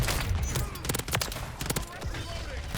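Rapid automatic gunfire from a Rival 9 submachine gun in Modern Warfare, loud dense bursts of shots with mechanical clatter, steady and close throughout.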